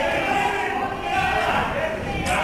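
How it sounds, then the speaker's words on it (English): A wrestling crowd at Paddington Hall in Harlow cheers through a tag team match, a dense, steady roar of many voices that holds at an even level throughout. "The crowd here at the Paddington Hall in Harlow cheering for Kian."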